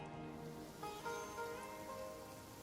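Steady rain falls in the video game Genshin Impact, a dense, even hiss of drops pattering on surfaces, continuous and close with no talking.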